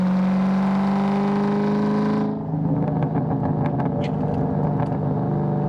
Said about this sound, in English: awesome exhaust note to it